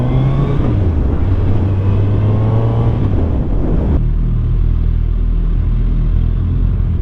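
A 2025 Suzuki Hayabusa Gen 3 motorcycle engine on a test ride roars loudly and steadily, its pitch climbing through a rev and then dropping into a lower, rumbling drone.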